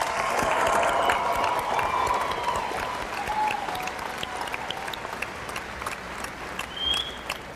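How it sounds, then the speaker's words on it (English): A fall 2014 university commencement audience applauds graduates of a college of business, a sustained wash of clapping with light cheering and a few faint voices, gradually easing off. "Please join me in applauding the graduates from the College of Business."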